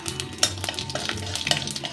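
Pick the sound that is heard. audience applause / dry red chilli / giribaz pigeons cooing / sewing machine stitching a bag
dry red chilli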